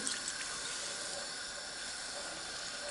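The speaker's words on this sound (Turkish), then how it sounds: "Şerbetimizi tekrar döküyorum" Syrup pours steadily into hot flour helva with molasses and hazelnuts, giving an even, hissing, watery rush that holds at a constant level throughout without talking.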